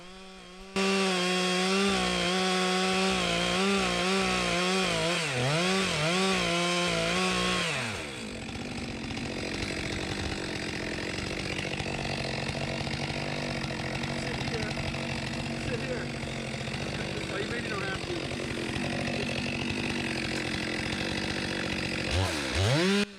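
Chainsaw bucking a big red oak log outdoors, engine roaring at high revs under load for several seconds, then dropping into a rougher, lower cutting drone as the bar works through the wood, with a brief rev at the end.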